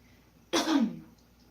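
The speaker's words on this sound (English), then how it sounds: "You're kind of coughing." One short, rough cough or throat-clear bursts out close by against near silence, then fades within half a second.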